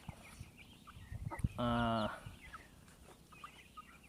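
A new backyard flock of chickens, with scattered soft clucks and one louder, sustained squawking call in the middle, close, over quiet background.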